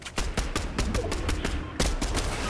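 Rapid gunfire in Fortnite aimed at a big rock: a fast loud string of sharp shots at close range, evenly spaced with a short gap before a final burst, and no talking.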